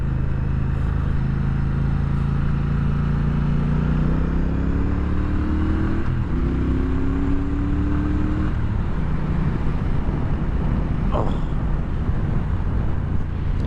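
A 2017 Triumph Thruxton R motorcycle accelerating hard, its engine note climbing through rising gears with a brief dip at a shift, loud and close over wind roar.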